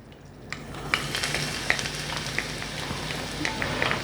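Garlic frying in hot oil with green chillies for a bhuna qeema raita tempering: a steady close sizzle throughout, dotted with small sharp pops and crackles.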